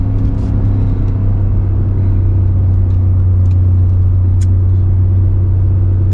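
A 2025 Ford F-150 Tremor pickup engine drones steadily with a low, constant rumble at around 4,000 RPM while towing a load down a winding highway.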